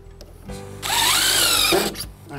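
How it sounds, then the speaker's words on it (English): Power drill driving a screw into a deck joist, one close whining burst of about a second that rises slightly in pitch before stopping, with faint rustling around it. "And you drive that drill bit right into the cradle."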